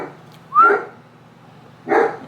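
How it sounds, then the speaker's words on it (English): A small dog named Daisy gives two sharp, close barks about a second apart, loud against a quiet indoor room. "No barking. No barking."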